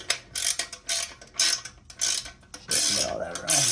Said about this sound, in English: I'm just gonna use an Allen, a wrench, socket wrench.